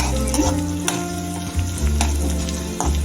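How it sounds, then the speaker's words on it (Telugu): Curry leaves frying in hot oil in a pan, a loud, close, continuous sizzle with a low steady hum underneath and a few sharp spatters and stirring knocks. "కరివేపాకు వేసిన తర్వాత బాగా వేయించుకున్నాను"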